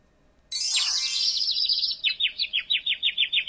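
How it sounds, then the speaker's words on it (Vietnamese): Bright bird chirping from a children's animal-learning game, a sudden burst of warbling followed by a quick run of repeated, evenly spaced tweets, loud and close with no voices. "Con chim."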